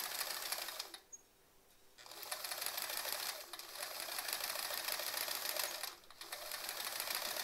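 A sewing machine stitches along embroidery on quilt blocks, running in steady bursts with two brief pauses, fairly quiet and close with no talk.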